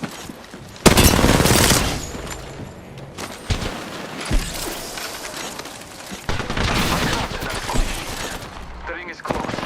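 Gunfire in Apex Legends: rapid bursts of automatic shots and heavy bangs in close succession, loud and dense, with other game sounds and a voice mixed in.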